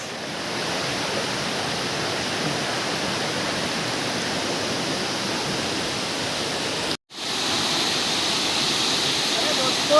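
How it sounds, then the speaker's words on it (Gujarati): A roadside waterfall roars in a steady, dense wash of falling water that fills the whole stretch, broken only by one brief dropout near the end. "રસ્તામાં ધોધ મળી ગયો એટલે ધોધની અમે ફૂલ મોજ લીધી"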